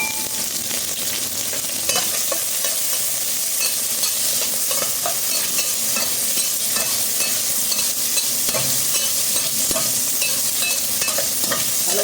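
Scallops and other ingredients sauté quickly in a hot pan, a continuous loud sizzle broken by repeated scraping and clinking stirs of a utensil against the pan, with no voices.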